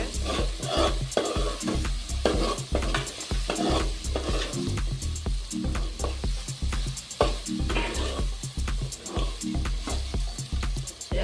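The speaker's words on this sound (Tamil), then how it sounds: "கொத்தமல்லியை போட்டு நல்லா மிக்ஸ் பண்ணி விட்டுருங்க" Chicken uppu kari with fresh coriander being stirred in a hot pan, rapid rhythmic scraping strokes over a continuous sizzle, loud and close with no speech.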